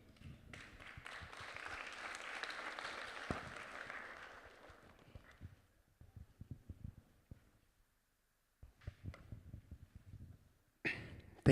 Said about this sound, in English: I think it deserves another big round of applause.